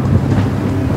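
Strong wind buffets the microphone at Baywalk in Barangay Bayanan, Muntinlupa City, a steady close roar that persists without a break.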